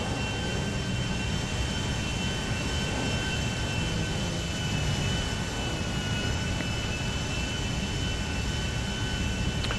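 Airplane flying in the GTA 5 video game, a steady, unbroken jet-engine roar with a faint high whine that holds at an even loudness for the full ten seconds, with no voices.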